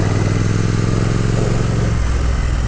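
A 2022 Triumph Speed Twin motorcycle rides along country roads, its engine loud and close with a steady, throbbing drone that shifts down in pitch partway through, mixed with wind noise.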